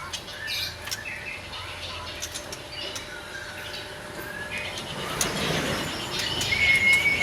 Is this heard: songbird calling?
yes